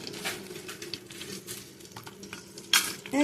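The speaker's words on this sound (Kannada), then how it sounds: "ಮಸಾಲ ಹುರಿಲಿಕ್ಕೆ ಇದು ತವ ಇಟ್ಟಿದ್ದೀನಿ ಅದಕ್ಕೆ ಸ್ವಲ್ಪ ಎಣ್ಣೆ ಹಾಕ್ತೀನಿ ಹಾಗೆ ಸ್ವಲ್ಪ ಮೆಣಸು ಹಾಕ್ತೀನಿ" Pepper sizzling in oil on a hot tava while masala is being roasted, a steady soft crackle with light scraping and a metallic clink near the end, close by and without talk.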